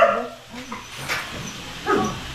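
A dog whimpers softly in short, high whines, close by, with a couple of brief rises in pitch.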